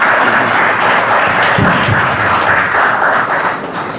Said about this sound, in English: So I want to give all the ladies a round of applause.